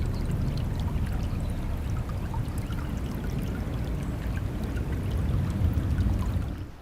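A river flows with a steady, even rush of water, continuous and fairly close, with no voices.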